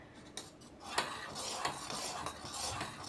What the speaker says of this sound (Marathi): असं ढवळत राहायचं मिश्रण सारखं आपण, कारण हे कस्टर्ड पावडरमुळे खाली लागू शकतं